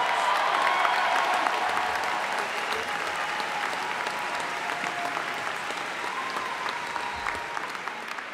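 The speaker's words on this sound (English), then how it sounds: "Let's give her a round of applause." Crowd applause at a college commencement ceremony, steady sustained clapping from a large audience heard at moderate distance throughout.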